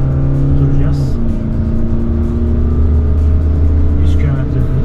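A Hyundai Staria van accelerates hard toward 100 km/h during a braking test, its engine a loud, steady drone with a low hum and road noise throughout.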